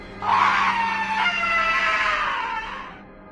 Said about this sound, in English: we heard the scream one more time, just beyond the tree line